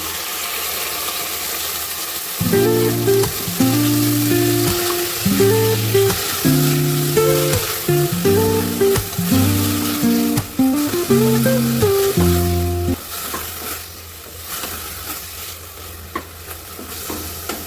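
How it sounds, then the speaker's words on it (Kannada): Vegetables for a vegetable pulao frying in a pan: a steady loud sizzle runs throughout, with a repeated metallic stirring and scraping rhythm over it, close by. "ತರಕಾರಿ ಸ್ವಲ್ಪ ಫ್ರೈ ಆಗಲಿ"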